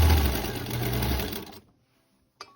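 A sewing machine stitching a quilt block runs steadily and loudly for about a second and a half, then stops, followed by a brief click.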